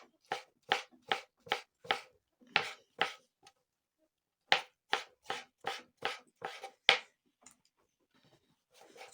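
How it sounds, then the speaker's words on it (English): A knife chops tomatoes on a board up close, with crisp, evenly spaced cuts in two quick bursts separated by a short pause. "Now I have to cut the tomatoes."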